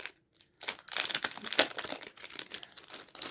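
Plastic wrapping on a stationery package crinkles and crumples continuously as it is torn open by hand, close and fairly loud after a brief quiet start.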